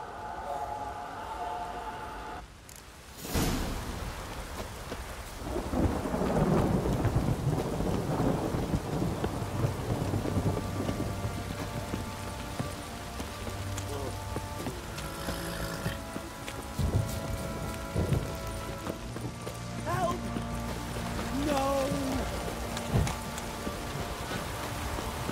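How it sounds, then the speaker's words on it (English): Heavy rain and rolling thunder in The Witcher 3 video game: a steady, dense downpour with deep, booming thunder swelling early on, plus a few brief tonal game sounds layered over the storm. "This downpour's a bastard, it is."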